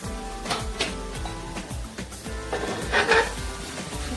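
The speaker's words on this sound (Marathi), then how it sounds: "आता हा शेवग्याचा पाला आहे तो आपण त्याच्यामध्ये टाकणार आहोत आणि व्यवस्थित असा आपल्याला भाजून घ्यायचा आहे" Moringa drumstick leaves roast in a hot pan, stirred with repeated scraping and clattering strokes of a utensil against the metal over a faint dry sizzle, with no one speaking.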